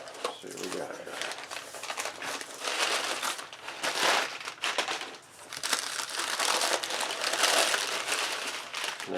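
Heavy packaging and bubble wrap are pulled apart and unwrapped close up, giving dense crinkling, crackling and rustling in uneven surges throughout, with a person talking at times.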